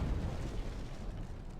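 Distant cannon fire from a large sailing warship in the naval combat game Naval Action, a continuous low rumbling barrage of booms rolling together with no clear separation between shots.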